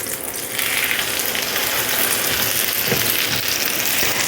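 Zucchini veggie fritters sizzle in a pan with a steady, loud, hissing crackle that fills the whole stretch, with a couple of soft knocks as they are turned.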